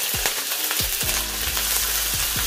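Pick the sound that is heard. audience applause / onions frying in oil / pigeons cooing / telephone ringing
onions frying in oil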